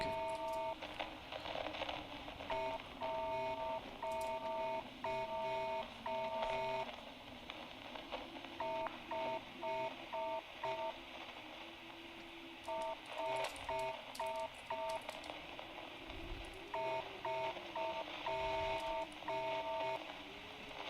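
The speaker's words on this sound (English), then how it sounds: "When there's a long pause, it means the Morse code is repeating." A repeating Morse code signal inside a Roblox game, with groups of clipped beeps and dashes broken by longer pauses before the pattern starts again, bright and even over a low murmur.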